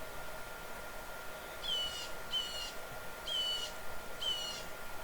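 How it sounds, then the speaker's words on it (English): Birds chirping outdoors in short, repeated high trilling calls, four distinct phrases spaced a second or so apart over a steady background hiss, moderately near. "Birds are really chirping out here today."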